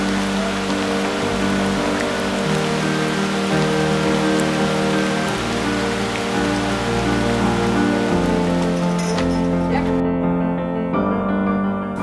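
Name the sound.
rain falling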